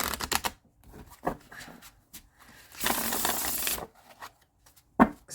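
Tarot cards riffle and slide through a shuffle, with short scattered shuffling bursts and one longer dense riffle in the middle before a few quick taps, close by and fairly quiet.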